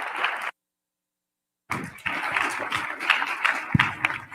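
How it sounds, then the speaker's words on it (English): An audience applauds at a 2021 Ignatian Family Teach-In for Justice breakout session. Dense clapping breaks off into a second of silence, then resumes fuller and continues steadily. "let's give another huge round of applause to Brandon, Saul, and Greg"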